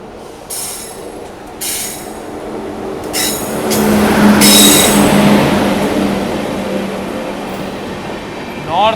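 A train passing at a railway crossing on the Guwahati–Agartala route: a loud, close, swelling rumble with high wheel squeals and clanking, rising to a peak midway before easing, with a brief tonal chirp at the end.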